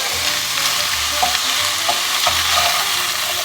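Vegetables fry in a pan with a loud, close, constant sizzle, joined by occasional soft stirring knocks and scrapes, with no one speaking.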